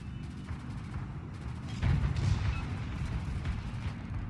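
A torpedo strike explodes against a warship in the naval combat game World of Warships, heard as one muffled, heavy boom partway through, rising out of a steady low rumble of ambient battle noise.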